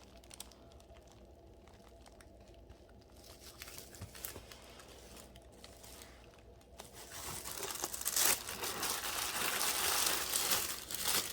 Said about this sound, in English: Look at this tissue paper. This is just beautiful.